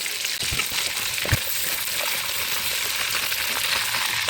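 Food for chanakhi sizzles and fries steadily in a kazan, a continuous close hiss with a few soft pops and bubbling crackles, unsalted.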